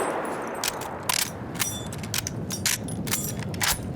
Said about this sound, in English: The clank of loading your rifle